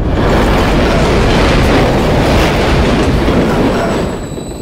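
A train rolls loudly on rails in the video game Call of Duty MW3, a steady dense rumble with rhythmic clatter and a faint high squeal, tapering slightly at the end.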